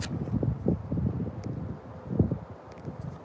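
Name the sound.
wind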